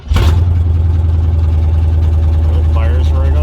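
Red Chevy engine running on straight headers with no exhaust fitted, a loud, steady low rumble right up close that holds from a sharp start through the whole stretch, with a voice speaking over it near the end.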